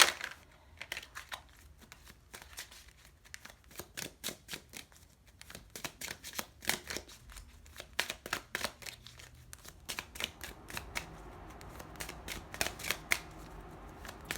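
Tarot cards are shuffled by hand in a steady run of crisp riffles and soft flicks, close and fairly quiet, with no voices.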